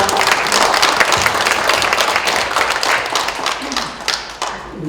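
Audience applause at a Korean book launch talk concert, a dense, loud wash of many hands clapping continuously before fading slightly at the end.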